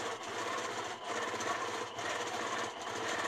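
A quilting sewing machine runs continuously while freehand stitching with stencils and rulers, a steady motor whir with a fast, even needle chatter and a couple of brief dips in pace.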